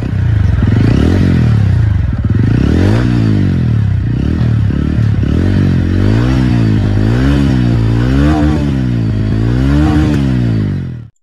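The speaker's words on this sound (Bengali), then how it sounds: "এখন বাইকটির এক্সস্ট নোটটি একটু শুনে নেওয়া যাক।" TVS Ronin 225 motorcycle exhaust note, a loud, close, steady single-cylinder thump with repeated rising and falling revs through the whole stretch, without any talk.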